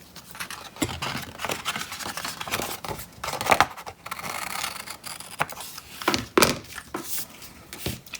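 Scissors cutting into a paper snowman craft card, a series of close, crisp snips and rustling paper scrapes in irregular rhythm, with a couple of louder sharp cuts.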